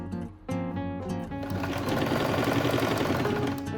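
Close and steady, a sewing machine hums and rattles through a continuous run of stitching, sewing lace onto a quilted tote bag, with a brief slowdown near the start.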